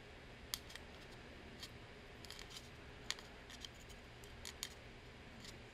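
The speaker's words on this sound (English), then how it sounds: "We are going to cut them down with scissors." Quiet, sharp snips of scissors cutting paper, several irregular cuts close by against a soft background hiss.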